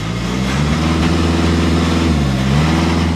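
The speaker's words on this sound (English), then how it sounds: "It sounds like a diesel." A 2015 Volkswagen Golf TDI engine idles steadily with a low, rough diesel rumble, holding a constant drone with slight shifts in pitch throughout.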